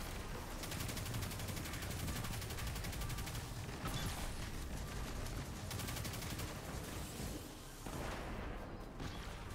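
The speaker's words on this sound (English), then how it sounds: "Shooting through a window." Sustained automatic gunfire in Destiny, fired through a window: loud, rapid bursts that run nearly nonstop with brief gaps and a few heavier booming hits.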